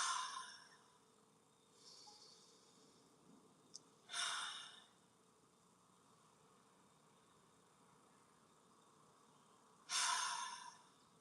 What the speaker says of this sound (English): Breathe in out, 3 deep breaths.